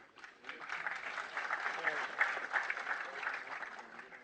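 An audience at a public meeting in Sirsa with Chief Minister Manohar claps together in a sustained round of applause, steady and full for about four seconds, with no speech over it.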